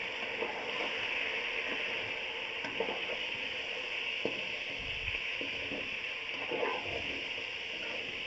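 Chicken being fried in a pot for Karachi-style biryani alongside browned onions, a steady sizzle with occasional stirring scrapes and clinks throughout, close and continuous with no talk.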